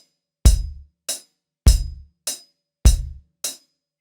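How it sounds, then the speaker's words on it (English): Without a snare, a kick drum plays a steady beat of deep, punchy thumps, each followed by a lighter, brighter tick, close and dry in an even rhythm. "the kick is going to play all 4 notes"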